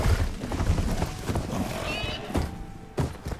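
Riding a machine mount in Horizon Forbidden West: rhythmic clopping footfalls with heavy thuds and some metallic clatter, close and fairly loud, with a brief whinny-like mechanical cry in the middle.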